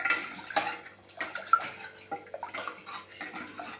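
Water is poured from a rinsed mixer jar into a pot of South Indian rasam, splashing and gurgling in uneven bursts close by, with faint clinks of a vessel. No speech.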